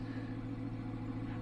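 Exhaust of a 2015 Dodge Challenger Shaker with mid mufflers, running at night: a steady, low, rumbling idle drone held close and even throughout, without talk.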